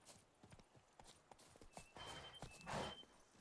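Roach the horse trots in The Witcher 3, a steady clip-clop of hooves on hard ground, close and distinct, with brief game ambience and a soft tonal chime layered in toward the end.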